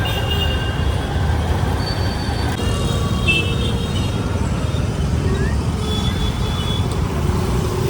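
A train rumbles and rolls through Kalyan railway station, with low steady wheel noise, metallic squeals and faint background chatter throughout.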